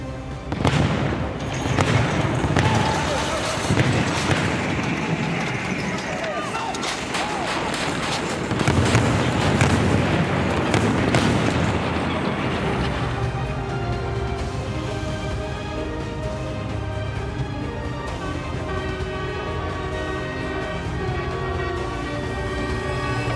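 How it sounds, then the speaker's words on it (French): Repeated heavy booms and blasts of an artillery exchange between enemy and friendly guns at a French Army capabilities demonstration crowd together for several seconds, then give way to a sustained rumbling roar that carries on loudly. "S'ensuit un échange d'artillerie entre l'ennemi et les canons amis."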